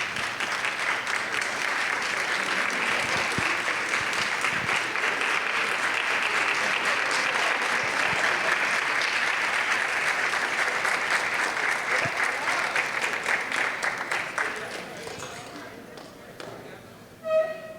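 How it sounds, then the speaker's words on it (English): An audience at a graduation ceremony stands and applauds, a dense, sustained roar of clapping lasting about fifteen seconds before thinning out and fading to near silence, with a few scattered claps at the end. "If you would please stand to give them a round of applause"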